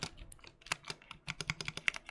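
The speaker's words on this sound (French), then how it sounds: "son bruit il est assez spécial parce qu'on entend en fait un petit peu la plaque" Quick bursts of keystrokes on a modified mechanical keyboard with a metal plate, clicky close-up taps with a faint metallic ring, in an irregular typing rhythm with short pauses and no talking.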